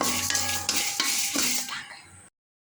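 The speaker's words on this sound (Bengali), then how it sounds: "এগুলোকে একটু ভাজা ভাজা করে নিব" Eight dried red chillies with half a spoon of nigella seeds fry in a pan, sizzling under repeated scraping stirs and clinks, before the sound cuts off abruptly near the end.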